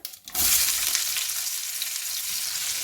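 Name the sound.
chopped ivy gourd (tindora) sizzling in hot oil with spices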